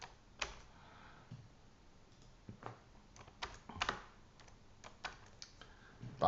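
Clicks of a computer keyboard being typed on come in short, irregular bursts with pauses between them. The sound is close and quiet, and no one speaks.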